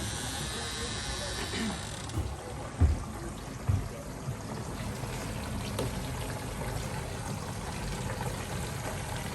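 Water runs from a green hose into a tank in a steady, faint rushing trickle, with a few soft knocks and clunks along the way.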